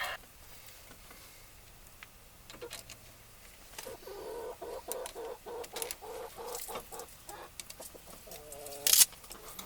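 A hen clucking near a 1959 Mercury Monterey being worked on, a series of short irregular clucks and squawks, faint at first then louder, with one sharp loud squawk near the end.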